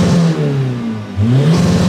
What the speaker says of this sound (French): si j'enlève mon pied sur l'embrayage